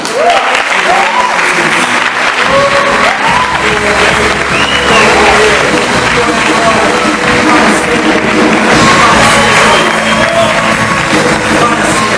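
A church congregation applauds during a Sunday worship service, a loud sustained roar of many hands with scattered cheers and shouted voices over it, continuous and close throughout.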